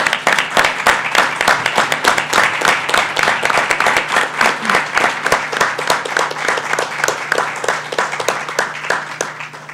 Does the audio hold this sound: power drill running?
no